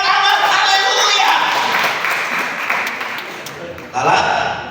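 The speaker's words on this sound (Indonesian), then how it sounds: "Kita berikan tepuk tangan, haleluya!" A church congregation applauding after a sermon call, dense sustained clapping that fills the room, loud and continuous before tapering slightly and then surging again near the end.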